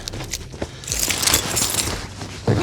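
Car keys for a 1985 Merkur XR4Ti jangle and clink as they are pulled out and handed over, a bright metallic rattle up close, then a soft knock at the end.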